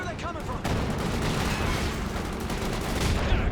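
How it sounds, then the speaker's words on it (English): Battle noise in Company of Heroes 2, where a grenade explodes amid dense gunfire and artillery; the sustained rumbling din starts after a brief lead-in with a voice, and someone speaks faintly over it. "Good grenade off there though"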